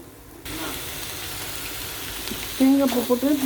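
Goat blood fry with grated coconut sizzles steadily in a hot pan while being stirred, a constant frying hiss with a louder tonal bubbling rising near the end.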